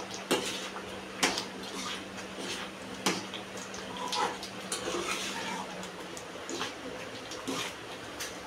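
Sweet semolina filling for sanjyachya polya is stirred in a pan over lowered heat, a scraping, shuffling sound broken by a few sharp clinks of the spoon against the metal.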